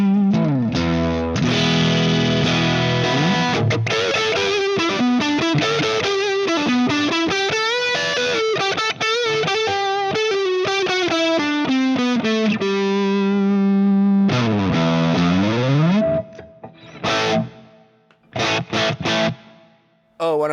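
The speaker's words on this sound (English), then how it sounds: "then I'll go to a high gain sound" Strandberg electric guitar played with a high-gain distorted tone, loud sustained chords and bending lead notes with effects, ending in a few short choppy stabs and pauses.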